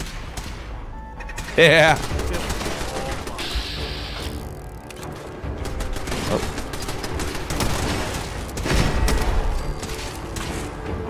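Turret gunfire and whirring mechanical clatter in the video game Fallout 4, a burst of rapid shots over grinding machinery, loud and close, with a player's voice talking over it.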